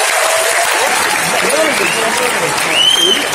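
An audience applauds athletes at a National Sports Day event, a dense, loud, continuous wash of clapping with a few whistles rising above it.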